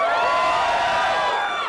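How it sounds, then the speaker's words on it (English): Excited crowd at an inauguration-themed event cheers steadily, a dense sustained roar of many voices with whoops, loud and continuous throughout. "We got an excited crowd here."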